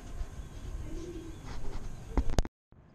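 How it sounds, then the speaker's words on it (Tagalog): Racing pigeons on a rooftop coo in soft, low murmurs against steady outdoor background noise, with a couple of sharp knocks near the end before a brief drop to near silence. "Nag-aantay tayo ng mga kalapati natin."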